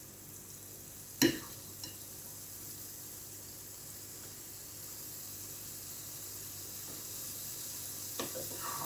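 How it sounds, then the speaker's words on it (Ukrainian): Soft, steady sizzling of onion and spring-herb pancakes frying in oil over medium heat fills the background, with a couple of sharp clinks from a utensil near the start and end. "Жарити оладки будемо"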